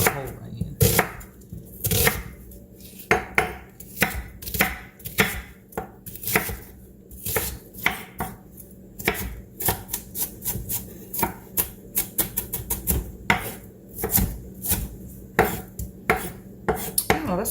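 A knife chops through an onion on a cutting board in a home kitchen, sharp, close knocks in uneven bursts, sometimes rapid runs of strokes, with a faint background hum.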